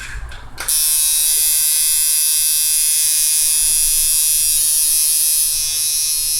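After a brief click, a tattoo machine tuned as a liner starts and buzzes steadily and smoothly at close range, a high, even hum that runs without pause.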